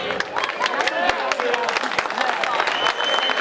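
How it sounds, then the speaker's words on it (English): An audience at a 100th birthday celebration and bench dedication for Joe Maphis applauds with dense, continuous clapping, and voices mingle with the clapping. "Let's give her a big round of applause."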